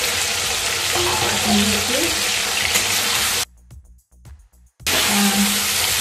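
Cauliflower curry frying in a pan sizzles loudly and steadily, broken by a sudden muffled quiet as a lid goes on, then the sizzle returns.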